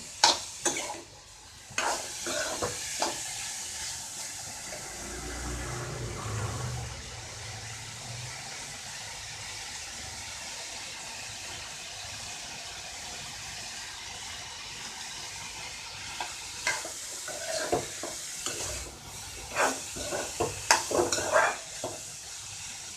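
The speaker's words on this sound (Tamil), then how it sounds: "ஒரு ரெண்டு நிமிஷம் இந்த மாதிரி கிளறி விட்டால் போதும்" Banana stem and coconut stir-fry being stirred in a hot pan: a scraping, clattering stir over a soft constant sizzle, with louder bursts of spoon scraping near the start and end.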